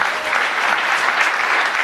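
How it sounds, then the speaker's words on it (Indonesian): A church congregation breaks into a short burst of dense, even applause from many hands, filling the room briefly with no voices standing out. "Tepuk tangan dong saudara"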